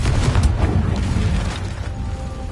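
A Confringo blasting spell explodes in the Hogwarts Legacy video game, a loud, heavy boom with a deep rumbling body that rolls on and slowly fades over a couple of seconds.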